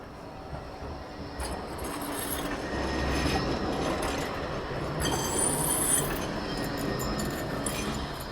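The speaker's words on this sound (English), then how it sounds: "Here comes another tram." A tram passes through Cleveleys town centre, a loud, steady rumble of wheels on rails with high squealing bursts, staying close for the whole stretch.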